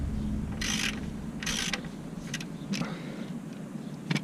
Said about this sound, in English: So to remove this cap, you just take a 3/8 inch drive